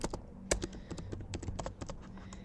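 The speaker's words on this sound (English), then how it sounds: "I'm going to type real time sales." Close, quiet keystrokes on a computer keyboard, tapped in quick irregular bursts with one sharper key press near the start.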